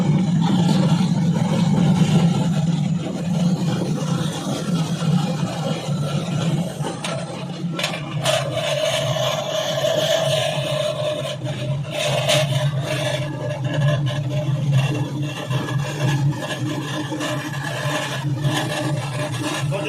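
A potato washing and peeling machine runs continuously, giving off a steady loud mechanical rumble with grinding, scraping and rubbing textures and occasional sharper knocks.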